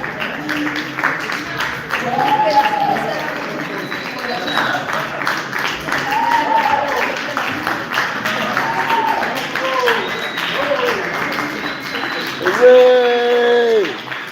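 An audience at a Julius Caesar stage performance claps and cheers in a continuous, moderately loud wash, with voices shouting over the applause and a louder call near the end.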